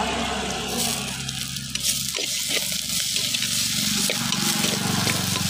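Onions and tomatoes sizzle and crackle as they sauté in a hot pan for a tamarind curry, with occasional stirring, close and steady throughout.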